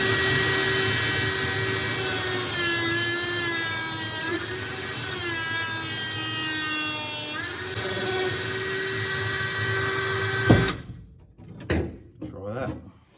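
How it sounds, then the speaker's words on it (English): A fine cutting blade, likely on an angle grinder, cuts a slot into a part on an LC Torana build, a steady loud whine with wavering pitch running about ten seconds before stopping abruptly, followed by brief knocks and handling sounds. "Fine little cutting blade, and I'm going to cut a slot in there"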